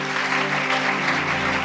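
A crowd at a Burundian church gathering claps steadily and loudly, a dense wash of applause filling the short moment without a break.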